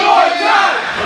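A wrestling crowd at a tournament event roars loudly and continuously, a dense wall of cheering voices sustained throughout without a break.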